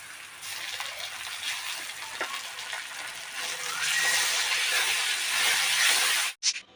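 Stuffed spiny gourd frying in a pan with leaves and chopped tomato, a steady close sizzle and hiss that swells louder toward the end before cutting off abruptly.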